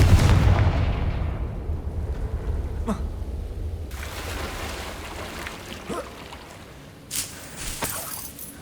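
A Confringo fire spell blast in Hogwarts Legacy opens with a loud, booming low-end burst that rumbles and decays. Fainter whooshes and impacts follow later.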